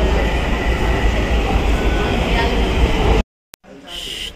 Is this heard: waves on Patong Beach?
no